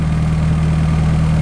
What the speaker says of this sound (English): blower motor running full blast